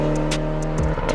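Mitsubishi Lancer Evo 9 R4 racing up a hill climb course, a loud steady engine drone with strong harmonic tones that drop in pitch near the end as the car passes close by.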